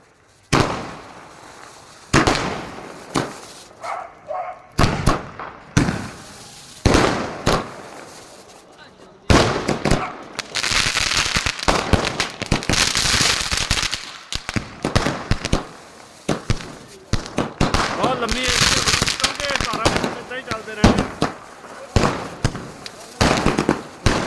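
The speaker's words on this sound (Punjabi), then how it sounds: "12 ਵਜੇ ਤੱਕ ਇਦਾਂ ਹੀ ਚੱਲਦੇ ਰਹਿਣਗੇ ਇਹ ਪਟਾਕੇ" Rapid, irregular firecracker bursts at an election victory celebration: sharp cracks and bangs pop in quick clusters, some loud and close, with voices talking in between.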